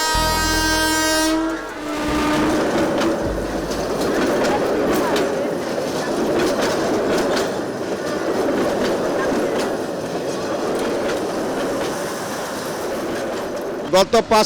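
A train rumbles past close by at a level crossing with a steady rolling clatter, preceded by a loud horn blast at the start; voices are faintly mixed in.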